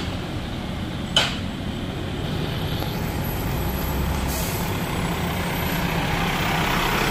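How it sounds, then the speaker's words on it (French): Heavy machinery works continuously at an accident site between Combani and Kahani where a Terex crane lifts an overturned 44-tonne truck, with a sharp air-brake hiss early on and a second fainter hiss later. "ici l'enlèvement avec un Terex, d'accord, pour soulever le camion qui s'est renversé sur la voie"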